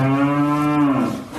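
A single cow in New Zealand gives one long, deep, close moo that holds steady and then fades, with no voices.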